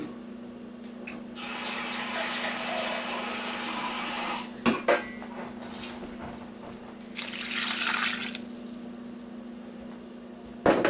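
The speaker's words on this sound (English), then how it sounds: "I'm also going to add 2 more cups of water." Water pours into a cooking pot holding red beans with smoked neck bones and garlic, a steady hissing stream for several seconds, then a louder splashing burst, with a small clunk midway and faint background hum.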